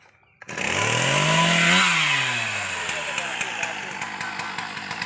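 Chainsaw starting and revving up close during tree cutting, a loud steady roar that sags under load then settles into a bogged, pulsing drone as it bites into wood.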